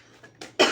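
A few short coughs, building to one louder, sharper cough at the end, close to the microphone.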